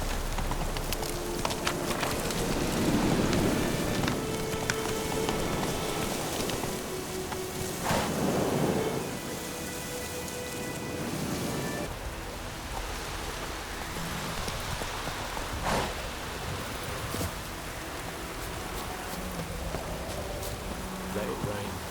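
Rain pours steadily with rolling thunder in The Witcher 3, a dense hiss joined by low rumbles and a few sharp cracks, while horse hooves clop nearby and occasional voices sound underneath.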